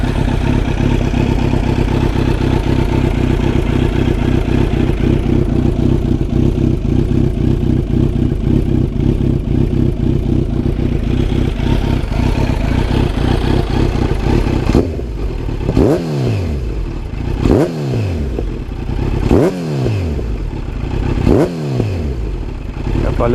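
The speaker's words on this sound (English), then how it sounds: "let's hear this exhaust now." Kawasaki Z900 motorcycle with an Akrapovic carbon full-system exhaust, idling loudly and then blipped in several sharp revs that rise and fall in quick succession, close and continuous.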